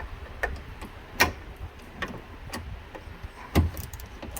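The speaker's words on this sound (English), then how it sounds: "Now I can get to those brackets real easy and tighten those up. Use my 10mm socket." A ratchet with a 10mm socket tightening window regulator brackets inside a truck door, giving sparse, spaced clicks with a couple of louder knocks.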